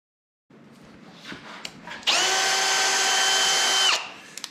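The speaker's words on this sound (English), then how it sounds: "I'm going to be able to tap all of these holes, that's 30 of them" A power tool tapping threads into holes in a 74 MikroBeamer, steady whining hum for about two seconds after a few light knocks and handling sounds, then cutting off sharply, close and fairly loud.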